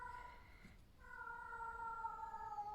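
A house cat meows indoors, a clear drawn-out call that breaks briefly and resumes, fairly close and alone over faint room noise.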